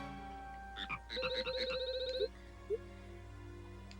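A frog witch in Harvest Moon: Animal Parade croaks in a cartoonish, warbling burst of rapid ribbits, with a few short chirps before and after, over a soft game background.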